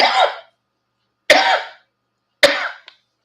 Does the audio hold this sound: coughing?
yes